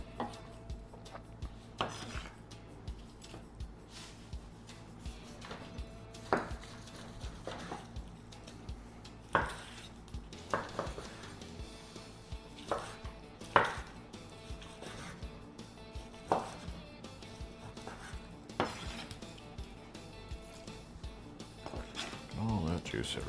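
Pulled pork butt is mashed down in a pan, with repeated clanking taps and scraping of a utensil against metal and soft squelching of juicy meat, fairly quiet throughout.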